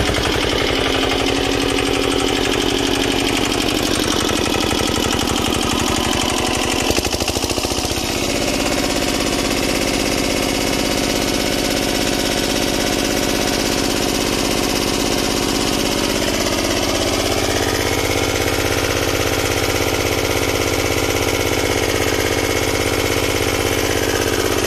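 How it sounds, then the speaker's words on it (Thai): An old Japanese engine-driven welder generator runs loudly and steadily throughout, rough and throbbing, with its pitch shifting partway as it revs, no voices heard. "ลองเชื่อมหน่อยต้องเร่งเครื่องหน่อย"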